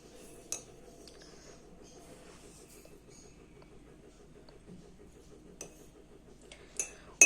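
A few spoon clinks against a glass or dish while sugar is measured out for a layered juice drink, with sparse, light metallic ticks spread over a quiet, low background.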